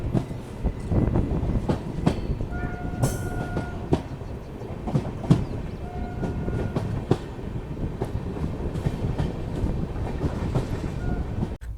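An express train between Jaisalmer and Sabarmati, heard from a 3rd AC coach, rumbles steadily along the tracks with rhythmic clacking and occasional sharp metallic clicks, close and continuous with no voices.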